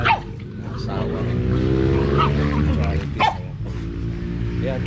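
Dogs bark, yip and whimper while playing with a native pig in a rural Philippine yard ahead of a lechon roast, sharp close barks breaking over a continuous hum, with people talking in the background.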